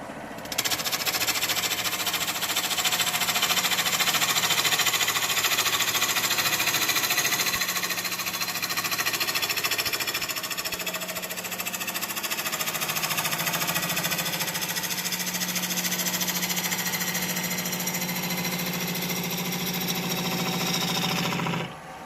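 Wood lathe truing up a wobbly blank of green wood, a continuous loud whirring hum with broadband scraping hiss from the cut, steady for the whole stretch before stopping abruptly at the end.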